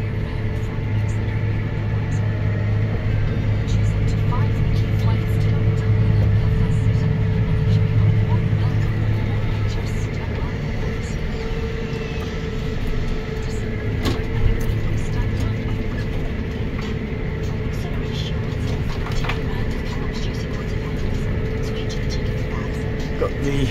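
A Fiat-powered tractor engine runs at around 1500 to 1600 revs with the PTO in 540 economy while mowing grass for silage, a steady close droning hum that continues without pause for the whole stretch.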